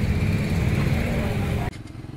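Motorcycles including a Triumph Tiger, KTM RC and BMW gathered roadside for a Sunday group ride, idling engines giving a steady low rumble that cuts off abruptly near the end, with faint voices around.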